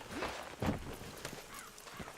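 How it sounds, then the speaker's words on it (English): A horse's hooves clip-clop at a walk in Red Dead Redemption 2, a handful of scattered hoofbeats over a steady background hum, with no talking. "Load Anders onto the back of your horse there"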